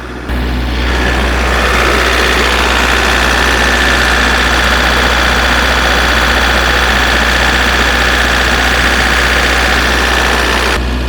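MEP 803A military diesel generator running under a 50% heater load, a loud steady low drone with a constant hum, starting abruptly and holding unchanged throughout.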